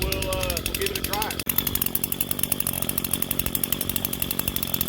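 Echo SRM 225 string trimmer's small two-stroke engine warming up, a close, steady buzzing idle with rapid regular pulsing throughout, with speech over the start.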